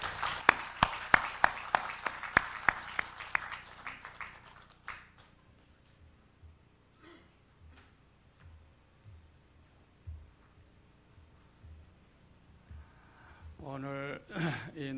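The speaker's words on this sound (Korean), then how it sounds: "박수로 환영해 주시기 바랍니다." Congregation applause at the opening worship service of the 2010 Busan World Mission Conference, a burst of dense, loud clapping for the first few seconds that fades into quieter room sound and scattered voices.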